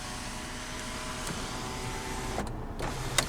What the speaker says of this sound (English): And you do have a power sunroof